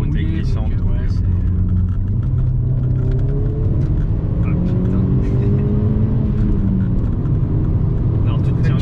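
An Audi S3 with a turbo accelerating on a wet, slippery, narrow road gives a deep engine drone with climbing, rising tones as it pulls, while people talk over it inside the car.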